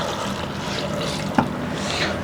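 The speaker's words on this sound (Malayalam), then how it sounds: "1 ഗ്ലാസ് വെള്ളം ഒഴിക്കുന്നുണ്ട്." A glass of water poured into a blender of chopped apple, beetroot and carrot for ABC juice, a short close trickle and splash with a small clink midway.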